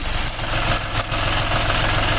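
A tractor engine runs at a steady low rumble nearby during wheat work in the field, a continuous idling drone with no voices.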